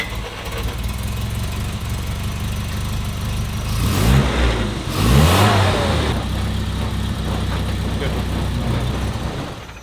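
The 997 engine of a 1963 Mini Cooper runs steadily up close, then gets two sharp revs that rise and fall before it settles back to a busy idle, with a voice faintly underneath.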